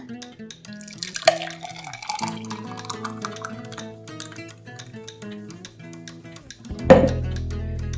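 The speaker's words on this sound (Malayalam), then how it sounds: "ഇതിലേക്ക് ഒഴിക്കുക ജ്യൂസ് സെർവ് ചെയ്യുക" Watermelon juice pours into a glass, the trickle rising in pitch as it fills, followed by a louder splash near the end.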